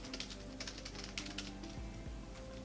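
Computer keyboard keys clatter in quick irregular bursts of clicks while Java code is typed, fairly faint over a steady low hum.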